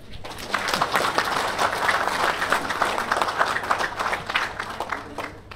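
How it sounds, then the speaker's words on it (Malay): Steady applause from an audience at a Malaysian political event for Perikatan Nasional candidates in the Johor state election, dense continuous clapping that holds at an even, fairly loud level throughout. "Tepuk tangan."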